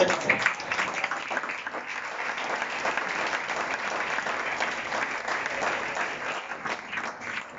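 A church congregation applauds loudly during a Spanish-language sermon, a dense and steady wash of clapping that holds for the whole stretch without a break.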